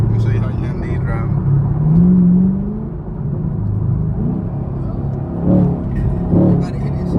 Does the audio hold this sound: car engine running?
yes